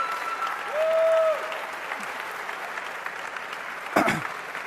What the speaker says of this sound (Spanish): muchísimas gracias por esta ovación de pie